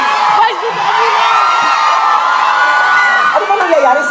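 A crowd at a live show cheers, whoops and shouts continuously, with children's high yells rising above the din. The roar stays loud and steady throughout, with brief excited peaks near the end.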